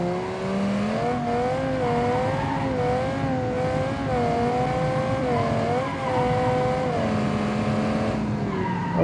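A V10-powered SUV in BeamNG drives hard, its engine holding a steady high drone that rises and dips with gear and throttle changes, with faint tire squeal beneath, loud and close throughout.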